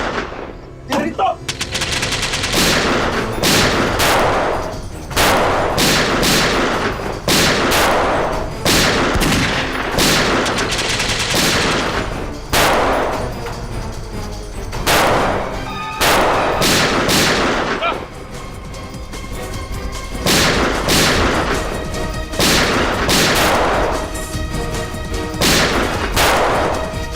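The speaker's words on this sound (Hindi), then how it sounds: "गोली चला।" Gunfire erupts through a Hindi CID TV crime drama scene: loud, repeated bursts of rifle and automatic shots crack in irregular clusters over a dramatic soundtrack for the whole stretch.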